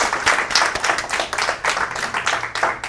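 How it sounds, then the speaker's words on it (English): Applause from a telethon audience for a group of volunteers, steady overlapping hand claps of a modest crowd, fairly near and continuous with slight swells throughout. "Can we all give them a round of applause?"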